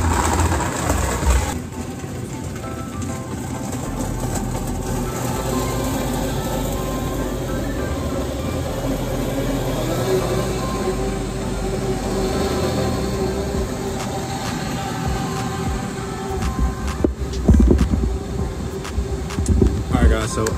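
A blender whirs loudly and steadily as it blends a post-workout protein shake with ice, a continuous motor roar lasting the whole stretch.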